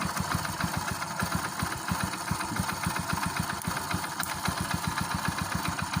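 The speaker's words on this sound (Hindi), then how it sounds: "ये बाइक स्टार्ट हो चुकी है, ये देख सकते हो" A Hero Splendor BS4 motorcycle, its engine reported as making an abnormal noise, idles just after starting with a close, steady, rapid low thumping pulse and no voices.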